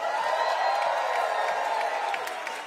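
Rally crowd in a large hall cheering and applauding steadily, a dense wash of claps and whoops that stays loud throughout and eases slightly at the end.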